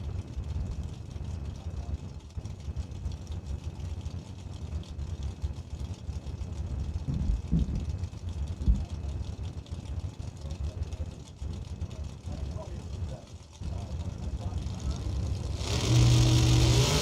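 Drag race cars at the Christmas Bracket Bash, a Vega wagon and a 1990 Mustang, idling and revving loudly nearby in a sustained, continuous roar, with a commentator's voice running over the engines.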